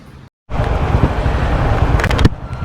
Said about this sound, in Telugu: హైదరాబాద్లో ట్రాఫిక్లో చూడండి